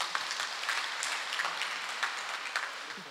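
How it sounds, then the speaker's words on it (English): Sustained applause from a crowd at an awards presentation at a farmers' fair and exhibition, a steady wash of clapping hands filling the space without pause for a few seconds. "Let us give a big round of applause for the awardees."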